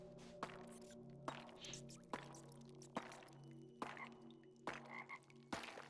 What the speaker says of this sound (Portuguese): Barulho de sapo.